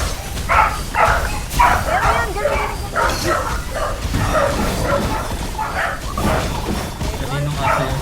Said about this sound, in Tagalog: Kaninong aso yun.